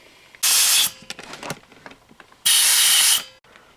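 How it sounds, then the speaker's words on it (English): Two loud bursts of compressed air from an air gun blasting dirt out of small Honda Z50 motorcycle parts, each hiss lasting about half a second, with light clattering and handling noises in between. "I'm going to take the air gun and blast them out, clean them up"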